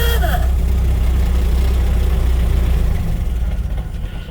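A 1927 Chevrolet Capitol AA Delivery truck engine idles loud and close with a steady low rumble, its tone dropping and growing rougher toward the end as it begins to die.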